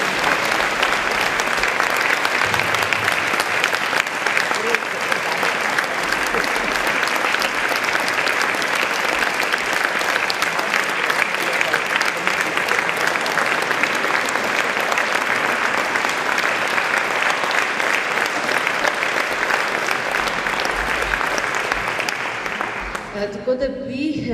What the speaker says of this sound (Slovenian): prosim še za en velik aplavz